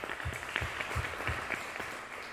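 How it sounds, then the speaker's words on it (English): Brief, fairly quiet applause follows a tribute at a Senate Judiciary committee meeting, with a handful of distinct claps over a soft room murmur. "you deserve a round of applause"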